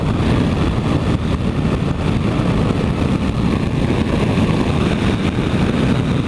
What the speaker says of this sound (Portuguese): Moto gostosa, vou pegar a estrada.